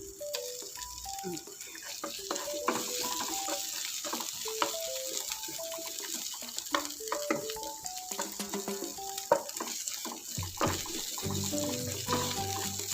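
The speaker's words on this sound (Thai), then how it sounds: "พอผัดให้หอมผัดให้พอหอม" Sliced ginger stir-fried in a pan until fragrant for chicken rice, a gentle continuous sizzle with occasional scraping, set under quiet background music.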